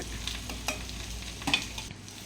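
Small onions and curry leaves are stirred in a pan, giving a soft, steady sizzle broken by a few scraping stirs. The sound is close and fairly quiet, with no one speaking.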